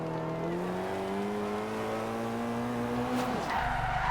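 A four-cylinder Ford Focus drifting in Forza Horizon 2, its engine revving high with a steadily rising pitch while the tires squeal, then the revs drop sharply near the end under a loud, close rush of car noise.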